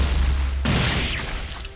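A booming detonation of burn stacks in the mobile game Epic Seven, a sudden loud blast partway through, backed by a dense, noisy rush that fades out.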